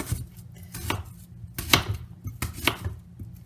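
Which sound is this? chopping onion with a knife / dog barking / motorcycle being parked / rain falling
chopping onion with a knife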